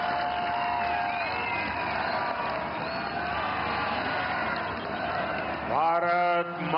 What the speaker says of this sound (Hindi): पूरे उत्साह, जोरदार तालियों के साथ